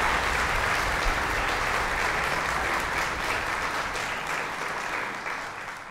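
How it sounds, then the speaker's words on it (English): Sustained applause from a concert audience at a college orchestra performance, steady and dense for several seconds, then gradually thinning toward the end. "Would you give another round of applause?"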